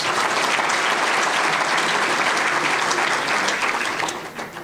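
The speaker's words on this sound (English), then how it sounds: "Let's have a round of applause for Jay Doherty and all the good work that he's doing." Steady, loud applause from a banquet audience at Maggiano's for an Illinois Commerce Commission event, sustained throughout and tapering slightly at the close.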